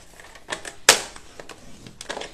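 Paper trimmed to 29 cm for a folded frame-style greeting card: one sharp, close cutting snap stands out among faint rustles and light handling noises in a quiet room.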